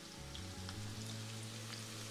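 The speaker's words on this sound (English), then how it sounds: "Can you hear that? That sizzle?" Onion sautéing in olive oil in a hot pan for a Spanish tortilla, giving a steady, close crackling sizzle with a low hum beneath and no voices.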